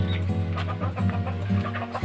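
Chickens cluck steadily and close by, soft overlapping clucks filling the space while a low hum sits beneath.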